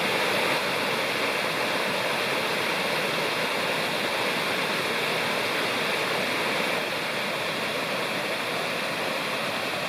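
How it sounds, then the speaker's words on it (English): Waterfall on a backpacking trail in Nantahala National Forest, a dense, steady broadband roar of falling water, close and loud with no letup and no voices. "Here's the nicest waterfall along the trail."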